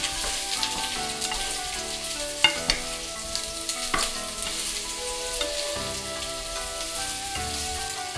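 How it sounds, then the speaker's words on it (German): Beef sizzles loudly in a wok of melted, lightly smoking sugar and hot oil for Chinese red-braised beef, with a dense crackling hiss and occasional scraping clatters as the meat is stirred. "Sobald der Zucker vollständig schmilzt und leichter Rauch steigt, geben wir das Fleisch in die Pfanne."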